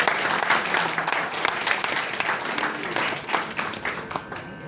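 Audience applause fills a hotel hall at a press club workshop, dense steady clapping from a crowd greeting a university vice-chancellor as chief guest, sustained throughout with no speech over it.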